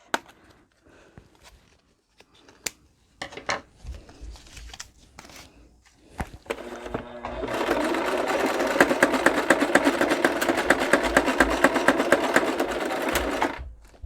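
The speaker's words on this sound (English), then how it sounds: "my sewing machine wasn't particularly happy about it, but it did it so far." A domestic sewing machine stitching through a thick, layered seam, starting with scattered clicks and handling noises, then running steadily with a loud, dense rapid mechanical chatter for several seconds before stopping.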